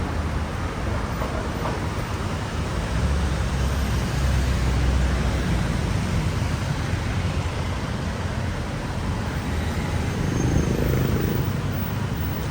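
Rush hour traffic on a busy Bangkok street near Asoke: a dense, continuous roar of engines and tyres, loud and steady, with no single vehicle standing out.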